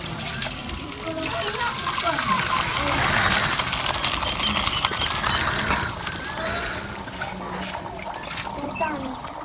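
Water drained from boiled macaroni makes a steady splashing trickle, moderately quiet, running beneath a person talking throughout.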